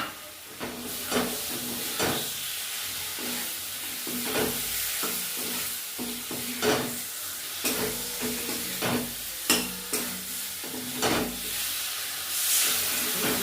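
Spice paste for a paneer biryani frying in a pan as potato pieces go in, a continuous close sizzle broken by repeated scraping stir strokes and clanks at an uneven rhythm.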